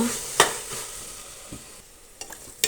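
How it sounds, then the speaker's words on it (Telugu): Ginger garlic paste frying with onions in a pan for potato and pea curry: a soft background sizzle punctuated by several sharp scraping stirs and clinks of a spoon against the pan. "ఇప్పుడు దీంట్లో జింజర్ గార్లిక్ పేస్ట్ యాడ్ చేసేసుకొని అది పచ్చి స్మెల్ పోయేంత వరకు బాగా ఫ్రై చేసేసుకోవాలన్నమాట"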